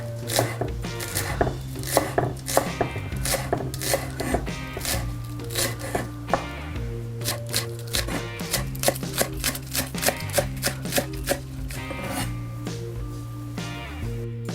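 Knife chopping green onions (scallions) on a cutting board, a fast steady run of crisp taps lasting throughout, close and clear with faint background music and no talk.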